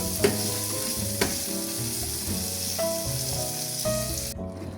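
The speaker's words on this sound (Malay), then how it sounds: "Kemudian kita goreng dia." Continuous sizzling and crackling of turmeric shrimp frying in hot oil, with occasional clinks of a utensil against the pan.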